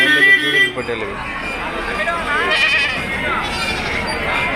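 Nellore rams bleat repeatedly amid a busy crowd at a sheep market, with people talking loudly nearby over a steady market din.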